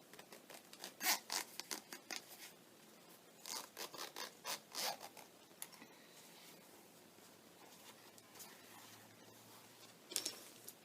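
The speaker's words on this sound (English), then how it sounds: "It's got a little zipper." A clothing zipper is pulled open and shut several times in quick rasping strokes, close up, with brief pauses between pulls.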